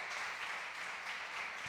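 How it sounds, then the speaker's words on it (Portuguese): A church congregation claps together in praise during a service, a soft, steady wash of applause heard from some distance with no break and nothing standing out. "Uma salva de palmas ao Senhor pela vida da irmã Maria."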